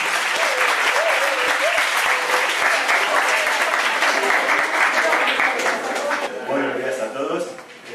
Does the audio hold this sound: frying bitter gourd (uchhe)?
no